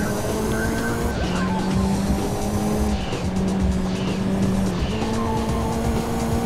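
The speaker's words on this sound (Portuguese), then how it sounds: "O carro dá uma saída monstruosa" A Ford Focus rally car slides out in Gran Turismo 2, its engine droning loudly while the tyres squeal in repeated drawn-out skids.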